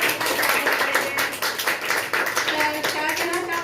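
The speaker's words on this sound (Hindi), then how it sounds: "तो एक बार जोरदार तालियां।" A small audience claps for a guest lecturer at a free basic computer class in Nagpur, brisk, continuous applause lasting a few seconds at close to moderate distance.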